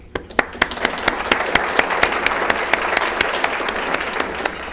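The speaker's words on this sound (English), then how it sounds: "So you should give yourselves a round of applause for supporting this great institution." An audience at a lecture event applauds, a dense, sustained round of clapping with sharp individual claps standing out, loud and continuous for nearly five seconds with no one speaking.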